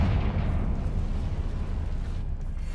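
A Confringo fire-blast spell in Hogwarts Legacy erupts as a loud, rumbling explosion that sustains heavily for a couple of seconds, with a dense low roar and no speech over it.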